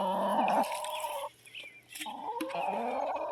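Free-roaming backyard chickens, kept with ducks, cluck in the morning in a few close, throaty bursts with a short lull in the middle.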